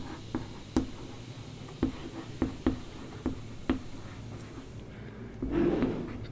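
A maths solution on definite integration being written out by hand on paper, with close, quiet pen strokes and small taps coming in irregular bursts. A short rustle follows near the end.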